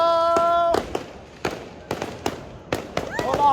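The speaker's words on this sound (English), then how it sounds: "Oh, we got fireworks." Fireworks go off outside a football stadium before the Independiente Medellín vs Nacional playoff derby, a string of sharp separate bangs and crackles with whistling bursts, loud and near, with people talking and noise in between.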